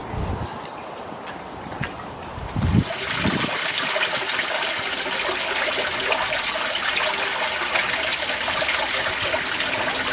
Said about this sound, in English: So that's the Waterfall on.